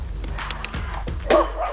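Two dogs chase a cyclist on an uphill road between Buenavista and Catanauan. Several short, close barks and yips come over the steady rush of wind and riding noise.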